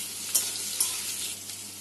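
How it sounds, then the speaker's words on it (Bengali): Bitter gourd frying in a pan, with a steady hissing sizzle and two brief stirring clatters near the start, close and even. "করলাটা ভালো করে ভেজে নিয়ে"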